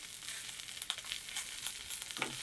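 Garlic and thyme sizzle steadily in a hot pan, a soft, even hiss with faint pops and crackles close by, no talking over it.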